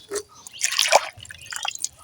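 Raw green mangoes are washed by hand in water in a village kitchen, giving light splashing and dripping sounds with a sharp drip near the middle, fairly quiet and close.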